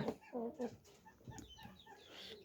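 Tiger breed chickens on a farm give several soft, low clucks close by, and quieter murmuring and faint clucking follow in the background.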